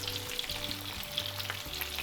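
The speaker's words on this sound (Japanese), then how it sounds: "ここでポテトも揚げ焼きにしていきます。" Potatoes pan-fry in butter with garlic and rosemary, giving a constant bright sizzle with small pops and a low hum beneath.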